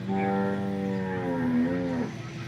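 A local Banaskantha cow moos once in a long, low, drawn-out call lasting about two seconds, close by and clear.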